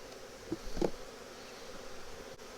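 Honey bees hum at an opened hive during an inspection, a steady low drone that continues throughout with a few brief louder swells near the start.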